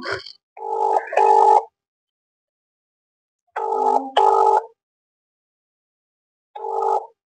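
A phone ringback tone on an unanswered call, three double-pulse rings spaced about three seconds apart, clear and alone with no talk.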